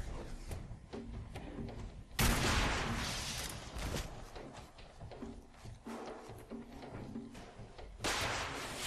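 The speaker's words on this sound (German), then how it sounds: "Er gibt noch einen Schuss ab, ne?" Gunshots in the post-apocalyptic shooter Fallout 4, a few loud broadband blasts with scattered smaller impacts and thuds in a busy game soundscape, with faint talk underneath.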